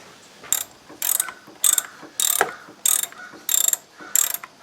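Ratchet wrench tightening two clutch master cylinder bolts threading into aluminum on a Nissan Sentra, heard as seven close, loud bursts of rapid clicking at an even pace with short pauses between strokes.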